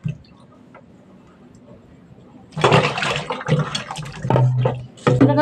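Tap water runs in bursts as food is rinsed in a home kitchen, the splashing starting partway through and stopping and restarting in short stretches, with a faint hum beforehand.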